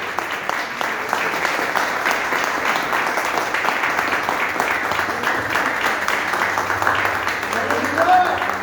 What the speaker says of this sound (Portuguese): Vamos receber a serva do Senhor com uma forte salva de palmas para Jesus